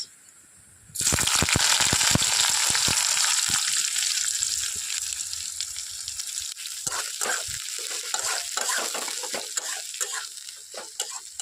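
Chopped onion hits hot oil already fragrant with asafoetida and nigella seeds, bursting into a loud, dense sizzle after a brief quiet start, then crackling steadily with spoon stirring and scraping throughout.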